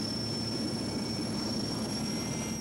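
An Alaska Army National Guard sky crane helicopter works over the sea ice at Barrow, a steady, even roar of engine and rotor that holds constant throughout with no voices.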